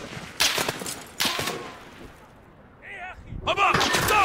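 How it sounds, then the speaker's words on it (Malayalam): Gunfire from the video game Call of Duty: Modern Warfare multiplayer: two loud, close bursts of shots half a second apart, then a quieter lull before a voice and more game noise near the end. "Taking fire."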